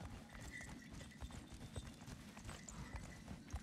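Heavy hooves clop steadily from a large cow-like beast in God of War Ragnarök, a dense run of dull thuds over a low rumbling game ambience, with no talk over them.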